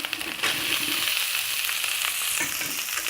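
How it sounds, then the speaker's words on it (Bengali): Boiled potatoes fry in a pan for an omelette curry, making a close, continuous sizzle with scraping stirs near the start and no talk. "একটু ভেজে নিতে হবে আলুগুলো ভালো করে"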